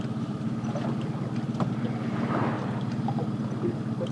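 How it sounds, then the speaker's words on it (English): An outboard motor pushes a small fishing boat at slow trolling speed on the water near Thorne Bay, Alaska, giving a steady low engine drone with wind and water wash and no talking. "So we got Rob on the motor steering us"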